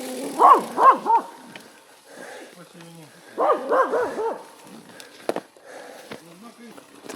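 A dog barks in two tight bursts of three or four yaps each, close and loud during a gravel bike ride, with a person talking calmly in between and scattered rattling noises.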